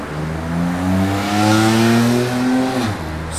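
A 1965 Ford Mustang Fastback with a factory A-code 289 V8 and four-speed revs up loudly and steadily, its pitch climbing through the throttle before dropping sharply near the end, with no talk over it.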